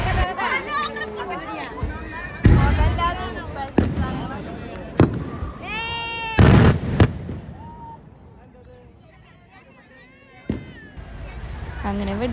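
Sample fireworks at the 2025 Thrissur Pooram festival: several sharp, loud bangs burst a few seconds apart amid constant crowd chatter and nearby voices, with one fainter crack near the end.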